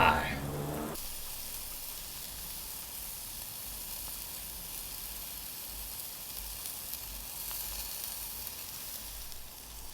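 Woolworths steak cooking on a barbecue gives a steady, soft sizzling hiss that runs evenly for the full stretch after a brief louder burst at the start, with no talking over it.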